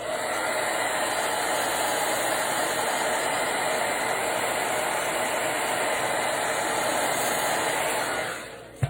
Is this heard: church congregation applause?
no